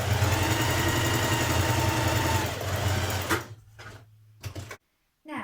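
A sewing machine runs steadily, stitching 1.5 cm seams on a Freya stretch top, its close, loud mechanical whir holding for about three seconds before stopping and giving a few short bursts.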